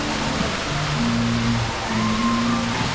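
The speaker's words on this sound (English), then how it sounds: "Really nice fountain, sort of create a bit of a mist effect there. And there's a waterfall." A fountain and waterfall at the Parque de Atracciones de Madrid amusement park splash and spray mist, making a steady, dense rush of falling water that stays loud and even throughout, with faint low tones in the background.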